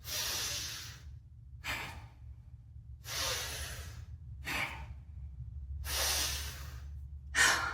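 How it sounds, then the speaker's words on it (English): Deep breaths during a mindfulness exercise: slow inhales and exhales come in close, airy bursts, six of them, each separated by a short silent pause, with no talk. "Inhale, open the body, and exhale."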